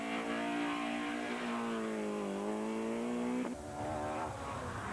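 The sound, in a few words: rally car racing at Punchestown rallysprint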